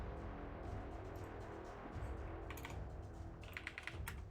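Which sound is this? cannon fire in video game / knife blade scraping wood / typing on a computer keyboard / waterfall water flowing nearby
typing on a computer keyboard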